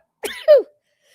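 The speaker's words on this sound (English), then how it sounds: "I had to sneeze" A single sharp sneeze, a quick breathy intake followed by a loud explosive burst, then silence.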